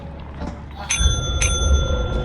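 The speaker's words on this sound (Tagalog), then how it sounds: "Pindutin nyo yung doorbell ng maraming beses." A doorbell in the video game Lethal Company rings several times in quick succession, bright ringing chimes repeating close up while players talk over the noise.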